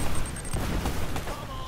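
A grenade sets off an explosive barrel in Uncharted: Drake's Fortune, a dense rumbling blast with crackling debris filling the short moment, loud and close throughout.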